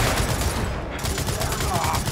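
Continuous gunfire from a Gears of War 4 firefight, rapid shots blending into a dense, steady barrage that fills the whole stretch at even loudness.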